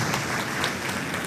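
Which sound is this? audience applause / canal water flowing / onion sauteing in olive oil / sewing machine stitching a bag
audience applause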